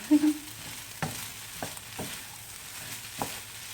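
Egg and grilled chicken fried rice with spinach stir-fried in a pan, a soft steady sizzle broken by a few sharp scrapes and clacks of the spatula, with no talking.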